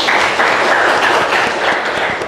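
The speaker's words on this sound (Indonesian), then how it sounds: "Tepuk tangan buat Anissa dong." Audience at a youth talk clapping for a participant, a brief, close burst of many hands clapping with dense, uneven taps.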